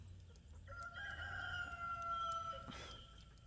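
Outdoors on a chicken farm, a rooster lets out one long, quiet crow from some distance, and a brief rustle or bump follows near the end against faint background noise.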